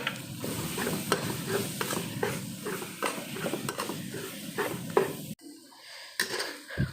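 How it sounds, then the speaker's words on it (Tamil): Tomato and curry leaf masala sizzling loudly in a pan while being stirred, with steady frying crackle and repeated scraping and clinking of a spoon against the pan, briefly quieter near the end. "தக்காளி, கருவேப்பிலை எல்லாம் போட்டு நல்லா வதக்காச்சு"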